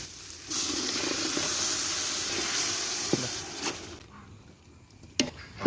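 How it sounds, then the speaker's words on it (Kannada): Green masala hits a pan of tomatoes for nati koli donne biryani, giving a steady broadband sizzle and hiss that fades after about four seconds, with a few sharp utensil taps near the end. "ಇದನ್ನು ಚೆನ್ನಾಗಿ ಉರಿತೇನೆ ಇದಕ್ಕೆ ನಾವು ಆಗ ಮಾಡಿದ ಗ್ರೀನ್ ಮಸಾಲಾನ ಹಾಕ್ತೇನೆ"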